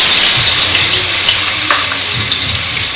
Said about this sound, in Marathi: त्याच्यात टाकणार आहे मी आपला काळा मसाला, जो वाटलेला खोबरं, लसूण, आलं, कांदा असा मसाला.